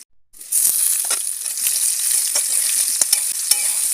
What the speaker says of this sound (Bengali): ঢেকে দিয়ে ভালো করে ভেজে নেব।